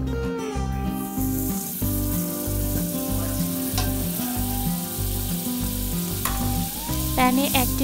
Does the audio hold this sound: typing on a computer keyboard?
no